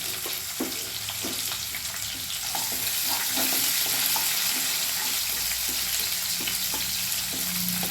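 Chopped onions frying in a pan for a Kannada-style madaki kalu (moth bean) palya, a steady close sizzle with scattered stirring clicks and scrapes throughout, no talking.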